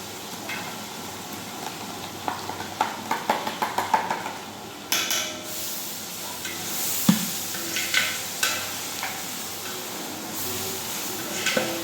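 Ginger garlic paste sizzling in hot oil for a large batch of biryani, with a steady fry hiss under a series of rhythmic scraping and clanking stirring strokes from a metal utensil in the pot.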